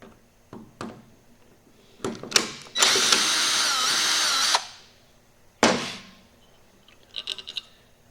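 A power tool drives a bolt out of a 2006 Dodge Ram 48RE transmission during a rebuild, with a few clicks and clanks, a loud two-second whirring burst, another short burst, then light metallic rattling.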